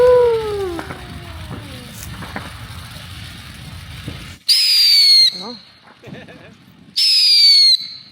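Fireworks going off at a New Year's celebration, including a misfire: two loud, close bursts with shrill descending whistles, separated by a quieter stretch of crackle, after faint gliding tones.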